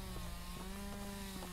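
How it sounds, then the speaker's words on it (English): Chainsaw in a video game, a steady buzzing drone with a low engine hum and faint rhythmic pulses, moderately quiet and continuous, with no talking over it. "Is that a fucking chainsaw?"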